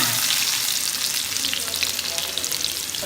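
Urad dal frying in oil for Nagercoil jackfruit seed kuzhambu makes a loud, dense, steady sizzle, short and unbroken, with no talk.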